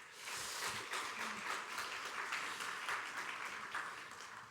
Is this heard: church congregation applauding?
yes